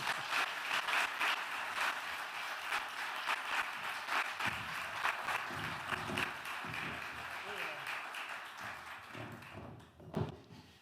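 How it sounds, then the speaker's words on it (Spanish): Applause breaks out for a guest on a Spanish-language program, a fairly close burst of clapping that thins out after a few seconds as footsteps and voices take over near the end. "un fuerte aplauso para él"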